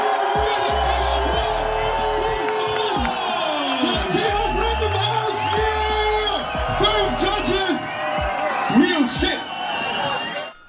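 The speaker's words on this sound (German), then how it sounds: "Bitte begrüßt alle mit einem Riesenapplaus." A concert crowd cheers, whoops and shouts loudly and continuously while booming music plays and voices call out over it, welcoming a rapper onto the stage.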